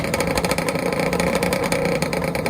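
Several Kawasaki H2 750 two-stroke motorcycle engines revving together at a drag racing event, a loud, dense, crackling buzz with rapid pulsing throughout.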